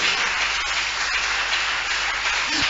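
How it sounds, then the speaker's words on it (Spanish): A church congregation applauds in a steady, dense wash of many hands clapping together, filling the room evenly with no pauses. "le dan un fuerte aplauso al Señor"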